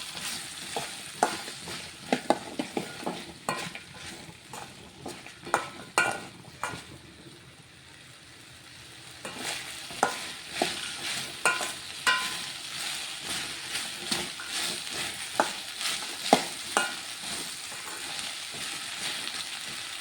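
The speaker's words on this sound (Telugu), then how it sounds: "చూడండి, ఇవైతే ఫ్రై అవుతున్నాయి" Sliced okra (lady's finger) sizzles steadily in a hot pan while a spatula stirs and scrapes it in repeated clattering strokes, the frying hiss continuous and moderately loud beneath the irregular stirring knocks.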